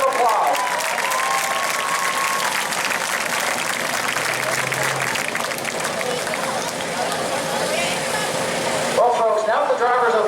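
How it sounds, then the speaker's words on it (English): Crowd applause in the grandstand at New Smyrna weekly racing after a driver walks away from a crash, a continuous broad roar of clapping with an announcer's voice over it near the start and end. "Give him a round of applause."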